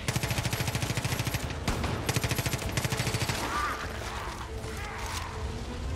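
Rapid shotgun and gunfire blasts from a zombie-themed co-op expansion of Far Cry 5, loud repeated bursts in quick rhythm for the first half, then thinning into scattered game noise.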